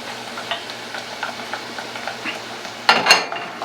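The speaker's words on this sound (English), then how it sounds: "Man, this smells good. It's good and hot." Hot oil is poured and stirred into chile flakes, giving a faint sizzle with soft stirring taps and a brief louder scrape or splash near the end.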